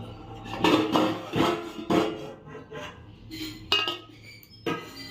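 Metal pots and utensils clatter and clink close by in a kitchen while someone rummages for a lid, with several bursts of knocking and scraping separated by brief pauses.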